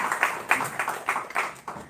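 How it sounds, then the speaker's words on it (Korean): Audience at a citizens' panel discussion on local transport clapping to welcome an introduced guest: a modest, uneven patter of claps in quick bursts, fairly close. "박수 부탁드리겠습니다"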